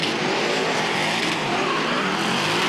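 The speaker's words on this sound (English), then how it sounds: "Listen to those turbos roar, those superchargers on his door." High-horsepower drift cars with turbos and superchargers roar around a track at a drift event at Sydney Motorsport Park, producing a loud, continuous engine blare mixed with tire screech and no clear talking.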